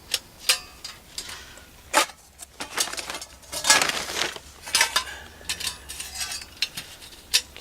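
A small metal alcohol stove is handled and set down, giving a series of sharp clinks, taps and scraping rattles at irregular intervals, with quiet handling noise between the knocks and no talking.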